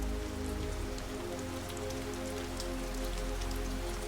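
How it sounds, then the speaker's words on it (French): Steady rain falls across a surface in a continuous, even wash of patter with dense droplet texture, close and constant throughout, with no voices. "au rythme de la pluie qui tombe"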